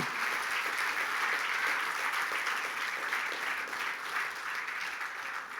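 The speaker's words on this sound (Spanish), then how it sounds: "Dele fuerte ese aplauso al Señor." A congregation at a church worship service claps continuously, a dense and steady round of applause that holds strong throughout before tapering slightly.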